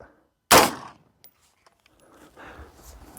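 A single loud gunshot fired from 15 yards at a Level 3A polyethylene helmet and Level 3 polyethylene plate, one sharp crack followed by quiet handling and faint movement.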